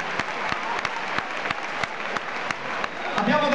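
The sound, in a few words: concert audience applause at Mediolanum Forum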